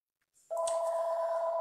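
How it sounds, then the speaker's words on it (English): A telephone rings: after a brief soft click, a steady, loud electronic tone switches on and holds without a break, close and clear with no talk. "That phone rings every time."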